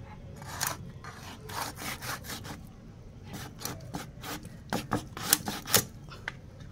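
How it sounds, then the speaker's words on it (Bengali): A knife saws through the firm belly section of a sea chital fish, giving a series of close, raspy cutting strokes in an irregular rhythm with short pauses between them. "এখন পেটিটা কেটে নেব"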